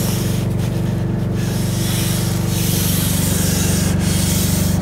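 A live edge wood slab being sanded with 220 grit on a power sander, a loud, continuous buzzing hum with rubbing friction on the surface, close and unbroken.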